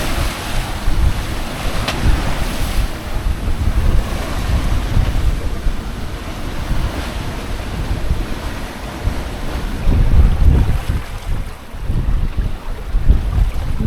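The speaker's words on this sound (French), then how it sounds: "Ça va mieux là, le vent a un peu baissé." Wind blows steadily over open sea from a sailboat off Greece's Euboea coast, a loud, continuous rushing with waves and gusty microphone buffeting, no voices.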